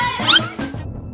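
A cat meows once, a short rising-and-falling cry heard close and fairly loud, followed by a softer trailing sound.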